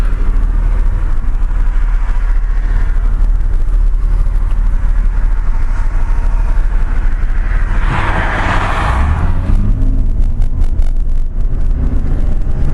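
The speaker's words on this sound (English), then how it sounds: "I've noticed it likes to rev fairly high in first gear" A 1992 Buick Regal Custom with a 3.1 V6 drives in first gear, revving fairly high. Its steady, loud engine-and-road drone is mixed with wind buffeting, and a rising tone swells near the end. Nobody talks.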